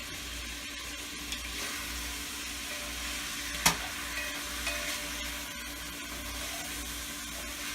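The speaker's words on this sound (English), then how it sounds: "Got to brown the meat." Meat for beer goulash sizzles and browns in a pan, a steady loud hiss of frying with an occasional utensil scrape or clink, and no one speaks.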